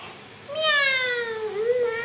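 A small child imitates a cat's meow with a single drawn-out, wavering vocal cry, close and fairly loud after a brief quiet start.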